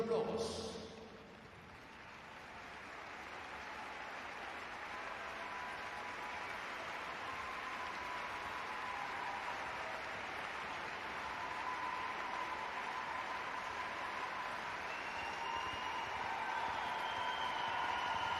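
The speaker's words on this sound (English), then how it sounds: "It's your applause." Applause from the spectators at an international show jumping competition during the lap of honour, a steady broad wash of clapping from a distant stadium crowd carried under continuous announcer talk.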